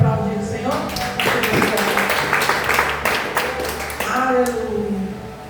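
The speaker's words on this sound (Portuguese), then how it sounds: "Em nome de Jesus, você pode aplaudir o Senhor?" Church congregation at a Sunday service clapping together, a dense wash of applause heard under a loud voice and sustained music tones.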